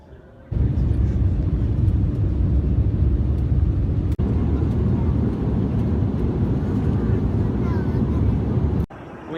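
A passenger airliner lands in Kuala Lumpur, Malaysia, with a loud, steady low roar of engines and rolling rumble filling the cabin from start to finish, breaking off briefly near the end.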